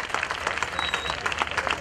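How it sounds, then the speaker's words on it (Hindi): Audience applause at a youth gathering and general-knowledge prize distribution, a steady roomful of clapping hands sustained throughout, with some crowd murmur mixed in. "तालियां बजती रहनी चाहिए"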